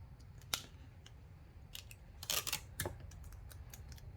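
Scissors snipping through recycled acetate sheet for a mini notebook, several crisp close cuts including a quick cluster of snips, sharp and clear over a low background rumble.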